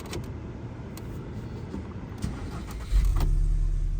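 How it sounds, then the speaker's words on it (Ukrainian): A 2008 Volkswagen Passat B6 with a 1.6 MPI engine and LPG conversion cranks briefly, then catches and settles into a steady low idle rumble close by. "Ну і давайте спробуємо завести дане авто."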